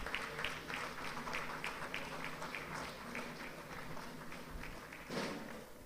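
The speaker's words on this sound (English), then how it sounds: "Please, a round of applause." Faint, distant applause at a Nigerian Navy stripes ceremony, a quiet patter of clapping that runs steadily and swells briefly near the end.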